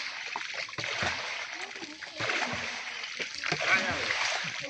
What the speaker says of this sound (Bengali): তারা কিন্তু পাশ দিয়ে নৌকা টেনে টেনে আমাদেরকে দেখাচ্ছে।